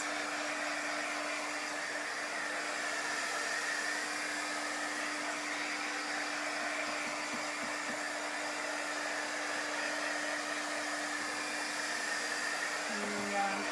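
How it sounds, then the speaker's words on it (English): A hair dryer blows steadily on chalk paint on a canvas, a constant close airy whoosh with a steady hum that runs unbroken for about fourteen seconds and shifts pitch slightly right at the end. "I think I can dry it pretty quickly with the dryer here."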